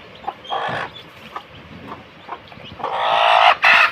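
A hen with newly hatched chicks clucks in short, scattered bursts close by, ending with a louder run of excited clucking.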